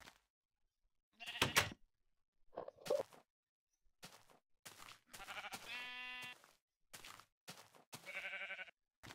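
Short, nasal sheep bleats from a video game come in separated bursts, with one longer wavering bleat in the middle, against near silence between calls.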